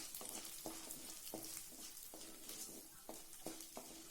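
Garlic cloves and dried red chillies sauté in a pan for a pennywort (vallarai keerai) chutney, giving a steady soft sizzle with several light spoon stirs and scrapes at intervals, moderately quiet and with no talk.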